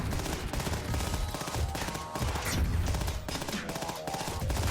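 Rapid gunfire from the space roguelike shooter Starward Rogue, a dense, continuous barrage of shots layered over loud game music and effects, steady throughout with no talking.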